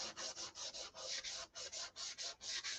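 Primer being sanded down on a SIG Magnum, a steady series of about fifteen rhythmic rasping strokes, close and loud, with brief pauses between passes and no talking.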